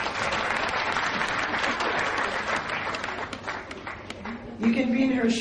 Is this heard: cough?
no